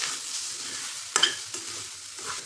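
Grated coconut is sautéed in a pan over a low flame, with a soft, steady sizzle and a sharp scrape of stirring around the middle, close by and with no voice.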